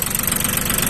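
A Yanmar tractor with a three-cylinder 3T80U diesel engine runs steadily, a close, continuous mechanical rumble with an even knocking pulse throughout and no voices.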